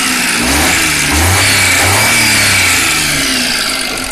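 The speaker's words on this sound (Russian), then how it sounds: "Обороты для трехцилиндрового двигателя отличные." A three-cylinder car engine with ticking valves revs up and down a few times in smooth swells, loud and close, with no talking.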